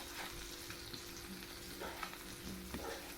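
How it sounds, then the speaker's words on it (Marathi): Fish pieces coated in masala fry on a hot tawa in a home kitchen, giving a steady close crackling sizzle with occasional stirring and scraping touches, no talking. "मच्छी एकदम मस्त अशी फ्राय करून"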